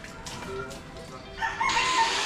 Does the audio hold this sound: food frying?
no